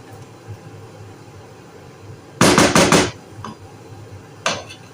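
A metal lid set down on a pot of Jamaican curry chicken and cornmeal, a loud clattering bang with a few rattling knocks, then a softer clink and one more sharp tap against quiet room hum.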